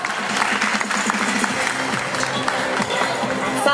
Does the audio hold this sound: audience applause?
yes